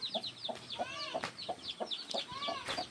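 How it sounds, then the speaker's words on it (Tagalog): Chickens clucking on a farm, a close, busy run of short repeated clucks and squawks from several birds in quick irregular rhythm. "may mga manok na kami."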